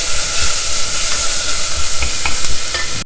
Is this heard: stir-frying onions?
yes